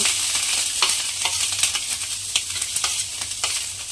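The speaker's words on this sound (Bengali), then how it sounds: "এইবারে এই গরম তেলের মধ্যে আমি কিন্তু প্রথমে দেব যে গ্রেট করা ফুলকপিটা আমি রেখেছিলাম" Grated cauliflower sizzles in hot oil for cauliflower paratha, a continuous bright hiss dotted with sharp pops and crackles, close and fairly loud with no voices.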